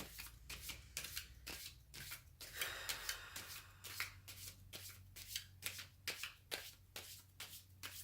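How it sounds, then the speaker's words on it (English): Tarot cards are shuffled over and over in quick rhythmic riffles, close by and fairly quiet, with soft flutter between the snaps. "This is a long shuffle."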